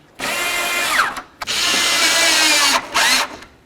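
A power drill snugs up headlight mounting screws on a 1988-2000 Chevy C/K1500, whirring loudly in three close bursts with brief pauses between them and the motor pitch sagging as each screw tightens.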